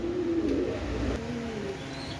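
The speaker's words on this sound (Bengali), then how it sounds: "দেখেন এখানে এক পেয়ার কবুতর আছে, বোম্বাই কবুতর" A pair of red Bombay pigeons makes a faint, low cooing phrase over a steady background hum, short and quiet, with no voices.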